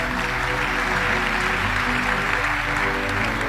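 Church congregation applauding during a French-language sermon, a dense, steady wash of clapping that holds at an even level throughout with a faint voice beneath.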